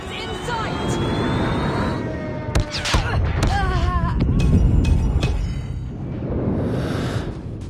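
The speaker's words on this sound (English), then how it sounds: "Friendly airstrike incoming." A Call of Duty Mobile airstrike: a steady roar of jet engines with whooshes and bursts of explosive gunfire, loud and continuous, with in-game voice callouts over it.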